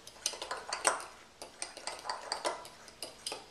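Soy sauce being stirred into a tuna dressing: quick, uneven clinks and scrapes of a utensil against a bowl, close and fairly quiet, with no speech.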